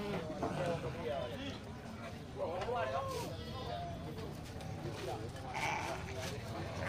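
A billy goat bleats among sheep at a livestock market before the Eid al-Adha sacrifice, several wavering cries rising over a constant bed of talk and crowd noise.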